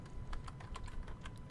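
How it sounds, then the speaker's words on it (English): Rapid, irregular clacking of keys on a computer keyboard, close and fairly quiet, continuing steadily for a second and a half with no voices. "Now I can type."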